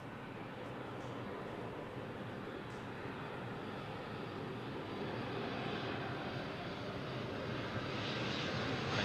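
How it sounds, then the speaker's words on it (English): A Boeing 737 on a fast approach into Manchester Airport roars overhead, a broad, steady jet-engine rumble that swells slightly louder toward the end, heard from fairly close with no speech. "Another 737 on high-speed approach."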